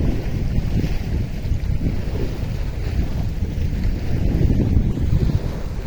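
Strong wind buffeting the microphone beside a rock pool on the Pacific Ocean shore, a loud, steady low roar with surf mixed in and no talk.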